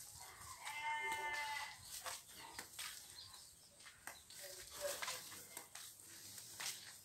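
Sheep on a family farm bleat a few times, faint and a little distant, among light rustling and outdoor background noise.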